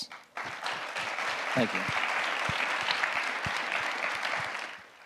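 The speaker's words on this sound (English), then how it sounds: "Can we get a round of applause?" Audience clapping for pageant contestants at a Mr. CCH 2022 event, a steady burst of applause that swells and fades, with a brief spoken thanks near the start.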